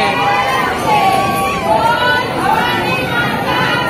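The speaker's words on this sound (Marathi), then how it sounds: "खूप गर्दी आहे, खूप गर्दी." A large, dense crowd of pilgrims chatters at the Tuljabhavani temple in Tuljapur, with a steady, close, loud babble of many voices and a few raised calls rising above it.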